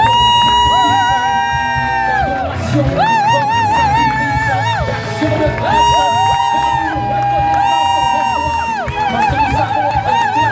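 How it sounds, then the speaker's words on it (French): A wedding congregation cheers and acclaims, with high wavering ululation-like voices and whoops repeating in waves over a loud crowd roar, sustained and close throughout. "reçois encore une fois de plus nos acclamations"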